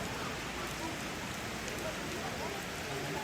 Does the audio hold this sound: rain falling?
yes